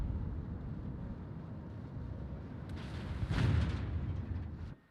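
The main guns of a Japanese battleship, the Ashitaka, fire in the naval video game World of Warships. A heavy, rumbling boom swells near the middle over continuous low engine and sea drone, then cuts off abruptly.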